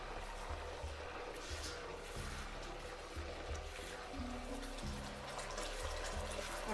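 Water poured into a pan of Chicken Manchurian gravy, a steady faint splashing and bubbling stream over several seconds with a low background hum.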